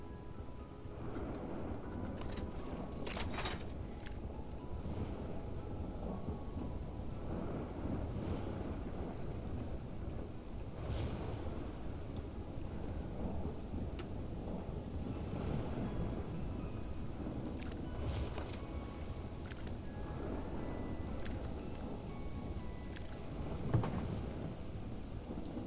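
A thunderstorm in Planet Coaster 2 rumbles steadily, with rain and wind noise washing throughout and low thunder rolls swelling and fading at a moderate distance, no voices over it.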